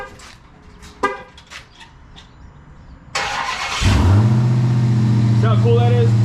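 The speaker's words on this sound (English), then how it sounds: "Give you guys another quick remote start." Dodge Charger Redeye, Gen 2, remote-started from the key fob: a short car-horn toot, then the engine cranks and catches into a loud, steady idle rumble close by, with faint scattered talk beforehand.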